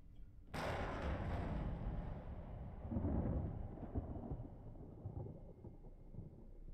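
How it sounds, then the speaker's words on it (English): Sudden loud thunderclap from a lightning strike in the Resident Evil game, followed by a long rolling rumble that swells again midway and lingers, with a soft rain-like wash underneath. "that was just some random lightning"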